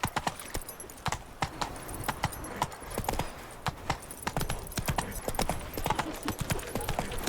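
Horse hooves in The Witcher 3 Blood and Wine, a rapid, even clip-clop of galloping at close range, continuing steadily throughout with faint background game sounds.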